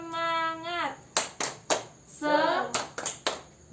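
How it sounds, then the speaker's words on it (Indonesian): A group claps a rhythmic cheer pattern at an Indonesian training session: sharp clustered claps mixed with chanted voices in call-and-response, close and moderately loud. "Tepuk semangat."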